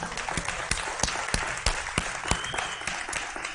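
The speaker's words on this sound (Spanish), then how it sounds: "Un aplauso para Cristo." A church congregation applauds during a worship service, with a brisk, dense burst of clapping and distinct sharp claps standing out at a fairly regular rhythm throughout.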